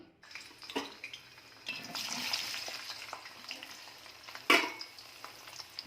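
Ivy gourd (tindora) pieces frying in hot oil for masala dondakaya, a soft continuous sizzle with occasional stirring scrapes and one sharp clink, fairly quiet and close.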